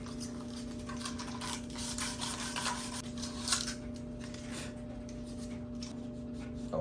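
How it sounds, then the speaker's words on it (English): Quiet, continuous rubbing of hand sanding with 150 grit sandpaper sheets made for an electric sander, worked in uneven back-and-forth strokes over a steady low hum, with no talking. "It's just 150 grit. It's actually sheets for electric sander, but you know, sandpaper is sandpaper."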